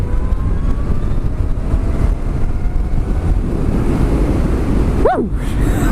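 A ride on a Zero SR electric motorcycle: steady rushing wind noise against the microphone with a faint motor whine, loud and continuous, ending with a brief rising electric whir.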